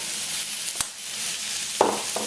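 Beef noodle stir-fry sizzling in hot sesame oil, a steady broadband hiss throughout with a few brief scraping bursts as it is stirred, close and moderately loud, no voices.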